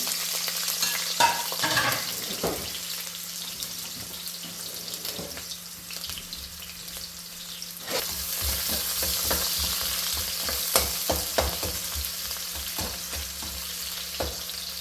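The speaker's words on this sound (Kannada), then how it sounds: "ಈಗ ಎಣ್ಣೆ ಬಿಸಿ ಆದಮೇಲೆ ಒಗ್ಗರಣೆಗೆ ಈರುಳ್ಳಿ ಹಾಕ್ತಾಯಿದ್ದೀನಿ" Chopped onion hits hot oil for tempering while cooking a capsicum chicken gravy, giving a steady close sizzle with frequent sharp scraping and stirring clicks that pick up in the second half; no one talks.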